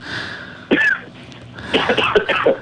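A couple of short, harsh coughs close by, followed by more throaty bursts and throat clearing, fairly loud with brief pauses between them.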